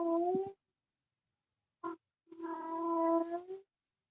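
A cat gives drawn-out, tonal wailing cries, one followed later by a short yelp and then a long rising wail, heard faintly and somewhat distant with silence between the calls.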